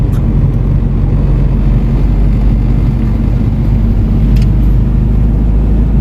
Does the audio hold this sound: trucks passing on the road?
yes